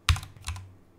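Two crisp computer keyboard keystrokes, close and isolated, with a short gap between them and a brief fade after, as code is typed.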